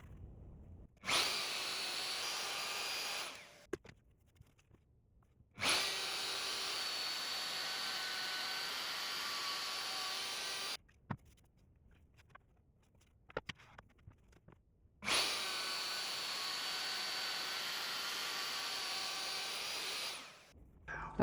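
Power sander fine-tuning a wooden half-lap joint, running in three long steady whirring bursts separated by quiet gaps with light handling noises.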